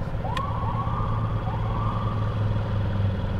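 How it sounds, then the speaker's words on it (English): An ambulance siren wails in rising and falling sweeps from a moderate distance, sounding over a steady low engine rumble from a Honda Ruckus scooter on a food delivery run. "Oh, ambulance."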